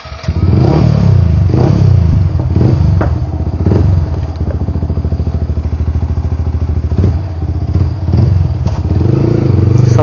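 A Yamaha R15 V3 motorcycle fitted with a silencer rumbles loudly up close, with throttle blips, uneven revving and an irregular clattering idle running throughout. Nobody talks.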